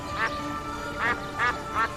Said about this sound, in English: A duck approaches, and we can see her trying to find a way to help her fellow bird.